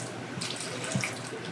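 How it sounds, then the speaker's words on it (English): Tap water pours steadily into a pot to cover chicken feet and necks for broth, a close, even gushing stream with no voices. "we're going to just cover it with water."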